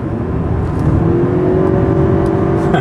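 A Toyota Avalon Hybrid accelerates hard in sport mode, its engine note climbing into a steady rising whir that holds loud and close for a few seconds, with no talking.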